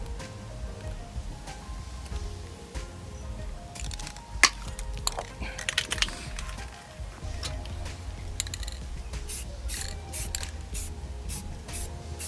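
An aerosol can sprays red paint onto the brake calipers of a BMW F30 in short bursts, with clicks and handling noises mixed in and steady background noise throughout.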